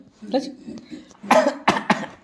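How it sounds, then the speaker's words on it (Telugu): A person coughs several times in quick bursts, close up, with voices around the coughs. "నువ్వు దగ్గు నువ్వు దగ్గు"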